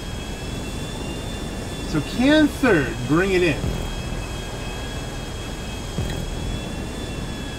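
A jet engine drones steadily during a race in the video game GTA 5 Online, a constant roaring hum with whining tones. Someone talks briefly over it.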